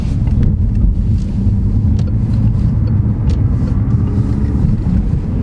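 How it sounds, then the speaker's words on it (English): A Peugeot 508 PSE car cruising at a leisurely pace, heard from inside as a loud, constant low rumble of engine and road noise with wind buffeting throughout and no talk. "we'll have a more leisurely drive this time"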